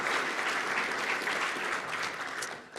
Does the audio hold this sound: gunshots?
no